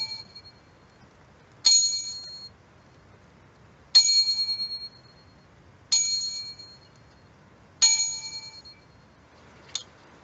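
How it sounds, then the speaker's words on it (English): A bright bell chimes five times at even intervals of about two seconds, each clear ding ringing out and fading, followed by a short half ring at the end, in an otherwise quiet room. "Five and a half bell rings."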